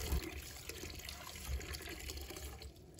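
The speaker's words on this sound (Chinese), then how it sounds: "现在我们用流动水清洗，多清洗几遍" Running tap water streams steadily over soaked wood ear mushrooms being rinsed in a sink, a continuous close splashing wash with no talk.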